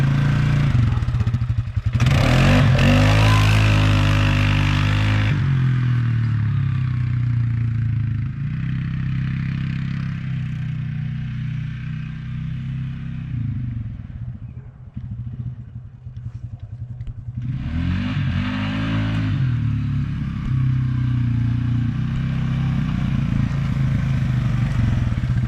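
A 2020 Polaris Sportsman 450 ATV with an EPI clutch kit revs in low gear. The engine drone is loud and close, rising and falling in repeated surges with rattling clatter in between.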